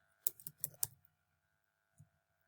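Short burst of keystrokes on a computer keyboard while entering a formula in Excel, several quick clicks in a row, then one lone tap after a pause, close and fairly quiet.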